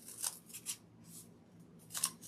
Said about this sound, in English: I'm just going to continue to cut out these little rings.